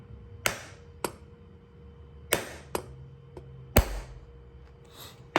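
Sharp metallic taps, about six spaced irregularly over a few seconds, sound as a fuel injector is knocked into the fuel rail of a GM 3.6 engine, close and fairly quiet between strikes.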